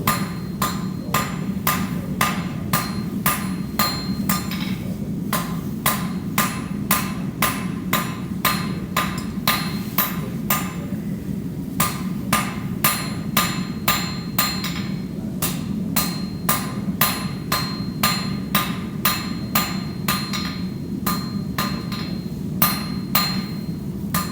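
Steady hammer blows ring out on hot steel at the anvil during a blacksmith's hot cut and punch demonstration, fast and rhythmic with a few brief pauses, over a constant low roar like a forge.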